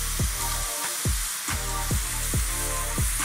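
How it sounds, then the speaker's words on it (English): Thick slices of homemade cured, smoked bacon fry in a pan over medium heat, giving a steady close sizzle with a repeating rhythmic pulse of low thumps beneath it. "When you're ready to cook, add it to a pan."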